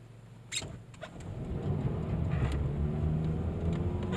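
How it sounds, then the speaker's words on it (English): A Jeep Patriot accelerates hard in snow as its traction control works, the engine's low rumble rising steadily after a couple of early knocks, with no talk. "I'll just give it a lot of gas, and we'll let the traction control system try and sort itself out"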